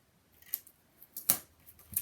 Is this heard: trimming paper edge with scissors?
yes